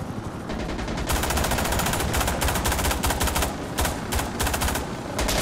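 Sustained automatic gunfire in the video game Insurgency Sandstorm, loud and close, with dense rapid shots running almost continuously and brief pauses between bursts.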